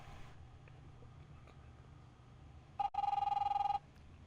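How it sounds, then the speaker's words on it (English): A telephone rings indoors: a short electronic trill, then a longer warbling burst of ring tone after a quiet stretch of low room hum. "Go ahead, answer the phone."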